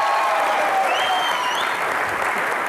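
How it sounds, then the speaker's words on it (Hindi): Steady applause from a TV comedy show studio audience fills the clip, dense continuous clapping throughout at an even, fairly loud level. "एक बार जोरदार तालियां"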